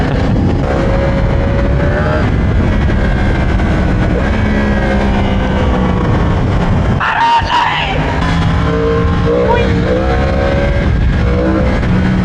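A 2024 Yamaha R1M sportbike accelerating through city streets in Naples, its loud continuous engine roar climbing through revs and gears, with a rider's voice shouting over it partway through.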